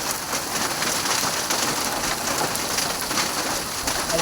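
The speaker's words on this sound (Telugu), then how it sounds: "అక్కడ పడ్డాయి, ఇంకా పడుతున్నాయి ఫ్రెండ్స్. వడగళ్ళు పడుతున్నాయి." A hailstorm with heavy rain pours down on a village in Shantinagar, Konkala, heard from inside a shop as a dense, steady, loud roar of falling water and pelting drops without a break.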